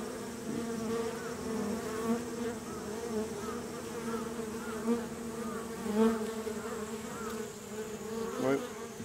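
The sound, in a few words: Japanese honey bees (Apis cerana) buzzing around hive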